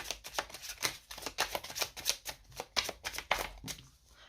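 Tarot cards are shuffled by hand in quick riffled bursts, a close run of crisp flutters and snaps with short gaps between them until one card falls free.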